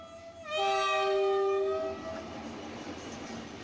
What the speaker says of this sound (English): The banshee foghorn blast of the whistle shivered their spines again.